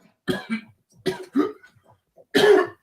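Several close coughs in quick bursts with short pauses between, ending in a heavier throat-clearing cough.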